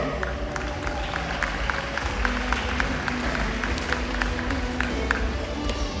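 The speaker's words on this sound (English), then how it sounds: "how about a huge round of applause for our volunteer toy soldiers?" An audience applauds the volunteer toy soldiers at a Christmas show at SeaWorld San Antonio, with sustained clapping and crowd noise, individual claps standing out against a dense background wash.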